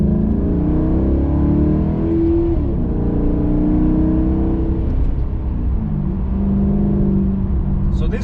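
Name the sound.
Maserati GranTurismo car driving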